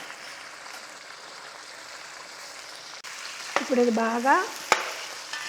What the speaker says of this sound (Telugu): చికెన్ వేగే వరకు తిప్పుకుంటూ వేయించుకోవాలి